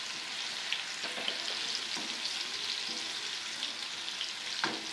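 Curry leaves fry in hot oil over a medium flame for a dal tadka, with onions in the pan. A steady bright sizzle runs throughout, with a few scraping stirs close by.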